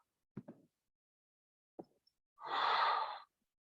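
Slow, audible breathing during a yoga pose on a paddle board: two soft short breaths, then a longer, fuller exhale, quiet and close, with silence between.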